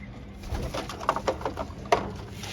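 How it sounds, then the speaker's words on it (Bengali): Racing pigeons coo softly and repeatedly nearby while drinking water mixed with deworming medicine, with a few sharper call bursts over a low background hum. "কবুতর আমার এগুলো খাচ্ছে"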